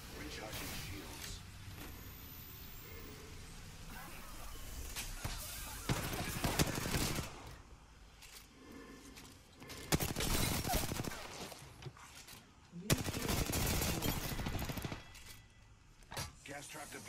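Bursts of rapid gunfire crackle through a video game battle, coming in loud sustained volleys separated by quieter stretches, with a character's voice speaking over parts of the action.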